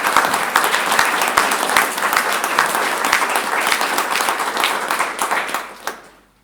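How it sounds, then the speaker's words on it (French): A congregation in a Protestant church in Montpellier claps warmly after a baptism during Sunday worship, sustained close applause from many hands that thins out and stops, leaving a couple of last claps before quiet. "Nous pouvons l'applaudir."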